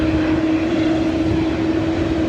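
Heavy jet airliner taking off from runway 24 right at LAX on the north side, a loud steady engine roar with a constant droning tone, no voices.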